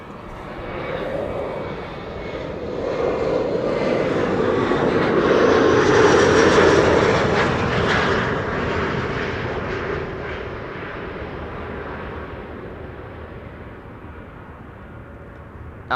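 Airliner passing overhead at Schiphol Airport, a broad jet engine roar that swells to a peak midway and slowly fades as the plane moves off, heard alone outdoors.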